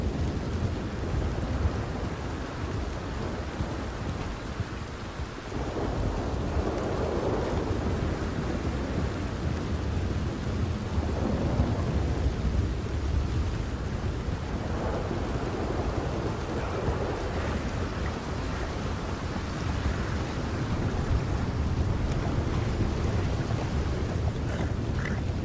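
Thunderstorm in Red Dead Redemption 2: steady heavy rain pattering on surfaces with low rolling thunder swelling and fading throughout, a continuous dense wash of sound with no voices.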